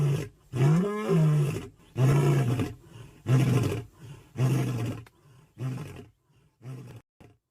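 A lion roars in the wild at night: a loud, deep groaning roar followed by a series of shorter grunting roars that fade toward the end, with no other sounds.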